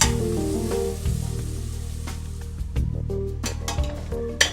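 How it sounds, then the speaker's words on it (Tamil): Ginger garlic paste sautéing in a hot pan gives a constant close sizzle and frying hiss, with occasional spatula scrapes and light clinks against the metal. "இஞ்சி பூண்டு பேஸ்ட்டு பச்சை வாசனை போகிற வரைக்கும் வதங்கணும்."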